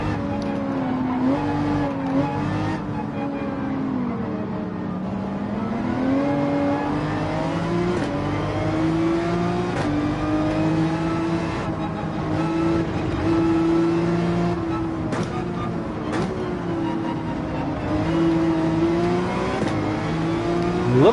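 A McLaren race car in Gran Turismo 7 at the Nürburgring Nordschleife, its engine droning steadily at high revs with shifting pitch and occasional gear changes, loud and continuous throughout.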